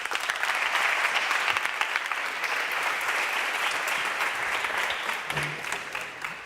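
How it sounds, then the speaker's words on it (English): A summit audience breaks into loud, sustained applause, a dense wash of clapping that fades gradually toward the end. "Please, a big applause."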